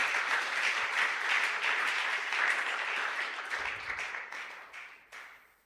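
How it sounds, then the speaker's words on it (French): A church congregation applauds loudly during a Sunday worship and thanksgiving service, a dense sustained crowd clapping that holds steady for several seconds before thinning and fading out. "Est-ce que vous pouvez encore acclamer très fort pour la gloire de Jésus?"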